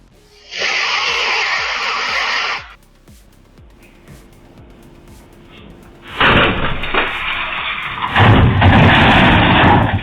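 A car loses steering on an icy winter road and crashes into a sign: a loud crash and scraping bursts out, fades to quieter rumbling, then a second heavy, sustained crunching impact follows, close and harsh.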